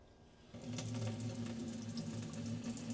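Water starts running from a condo's water purifier dispenser tap, a sudden steady gushing stream that continues evenly, close and moderately loud, with no talking.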